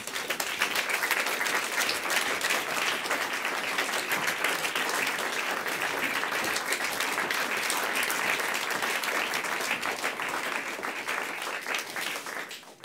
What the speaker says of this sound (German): Mit einem Applaus.